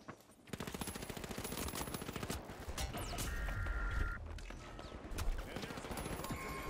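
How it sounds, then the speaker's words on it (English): Rapid automatic gunfire rattles in the video game The Finals, with dense bursts of close shots repeating over several seconds alongside faint mechanical clatter. "I'm getting shot from bro above."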